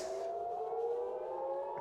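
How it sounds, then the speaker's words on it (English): A distant air raid siren wails in a steady, sustained tone, faint and drawn out over background hiss. "I've spotted a few air raid sirens"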